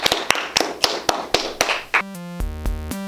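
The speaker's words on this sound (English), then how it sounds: "Hey, I'll clap too, I'll clap." Roughly eight sharp hand claps land in a steady rhythm for two seconds, close and crisp, then give way to a burst of band music with sustained tones.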